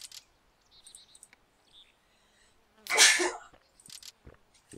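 One sharp sneeze bursts out near the middle, loud and close against near silence, with faint chirping and small clicks around it.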